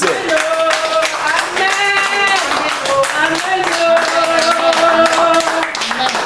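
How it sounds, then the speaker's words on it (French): Churchgoers clapping in rhythm during a service, sharp steady claps driving along with singing voices and sustained musical tones, loud and close throughout. "Il faut applaudir"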